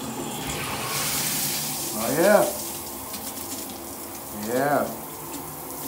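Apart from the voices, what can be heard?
cold water running from a Kohler shower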